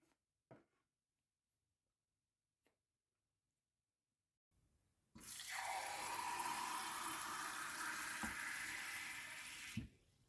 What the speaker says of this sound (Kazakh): Енді кастрюлға 3 стакан су құямыз.